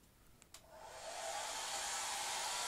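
A handheld hairdryer switches on after a couple of faint clicks, its airflow rising into a loud, steady broadband rush that holds without a break to the end, with no voices.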